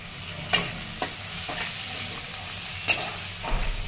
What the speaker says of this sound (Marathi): तर लसूण अद्रक हे छान परतलेलं आहे